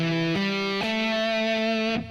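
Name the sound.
electric guitar slides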